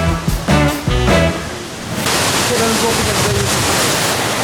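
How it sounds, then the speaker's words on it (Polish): A nearby waterfall roars as a loud, steady rush of water, with a person talking briefly at the start before the water noise takes over. "tutaj stoimy nad tym wodospadem jakby i od razu przy jego ujściu"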